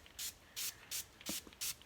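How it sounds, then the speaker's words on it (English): Five quick sprays of Moroccan or coconut oil mist onto the lower part of a human hair wig, short evenly spaced hissing bursts close by in a quiet room. "And I'm just going to spray that on the lower part."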